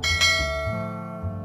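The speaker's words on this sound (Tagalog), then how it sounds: "click the notification bell." A notification bell sound effect, a single bright ringing chime struck once that rings out and slowly decays, loud and alone.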